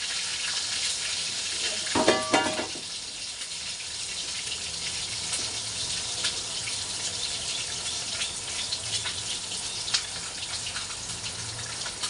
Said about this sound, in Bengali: ডিমগুলো আগে ভেজে নেবো